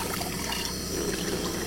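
Water running steadily from a multipurpose hose during dishwashing, a continuous close splashing rush with no pauses.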